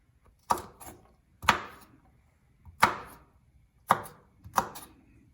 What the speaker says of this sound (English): And cut them into manageable bite-sized portions here.